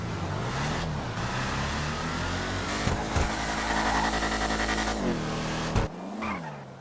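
Tuned Pontiac GTO in a GTA V street race: an engine revving hard through rising and falling gear pulls, with squealing tires and skids over a steady roar, loud and close throughout.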